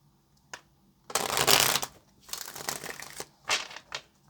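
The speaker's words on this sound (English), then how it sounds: "Let's get one more shuffle." A deck of tarot cards being shuffled up close, several crisp riffling bursts with short pauses between them, no talking.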